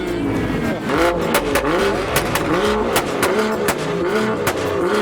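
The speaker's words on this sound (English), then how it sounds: "the AMG revving in the orange mist" A Mercedes-AMG sports car engine revs repeatedly, rising and falling in sharp bursts, loud and nearby, with crowd noise and talk underneath.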